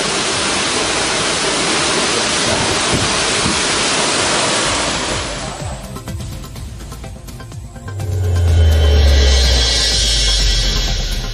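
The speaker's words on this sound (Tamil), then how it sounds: "ஆகாய கங்கை நீர்வீழ்ச்சியில் கொட்டும் நீர்." Heavy rain-fed water pouring down Aakaya Gangai waterfall in the Kolli Hills, a loud continuous roar that eases briefly and then surges again, with wind buffeting the microphone.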